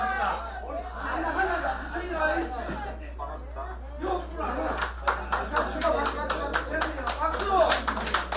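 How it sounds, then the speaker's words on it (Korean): An outdoor group of disabled veterans on a battlefield pilgrimage in Busan breaks into applause, with sharp irregular claps growing louder over chatter and chuckles. "박수!"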